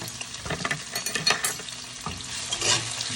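Onion, scallion and hot chili pepper sauté in a hot pan for a Jamaican-style meal, giving a steady crackling sizzle broken by scraping stirs, fairly close and with no talk.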